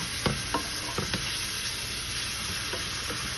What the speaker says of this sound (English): I'm gonna saute that some more